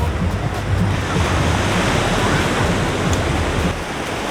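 Ocean waves breaking at Sayulita beach in Mexico, a loud continuous wash of surf with wind noise, close and steady throughout.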